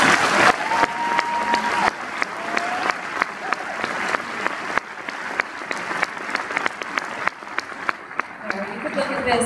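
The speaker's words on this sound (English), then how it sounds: "So let's give them a round of applause." A school audience at a senior reception claps for departing faculty members, loud, close and sustained, with sharp individual claps standing out from the crowd, and voices mixed in.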